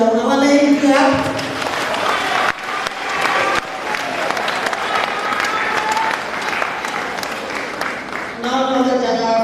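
Applause from a large audience of about a thousand in a hall, loud dense clapping filling the whole stretch, with crowd noise and a brief voice near the start and end.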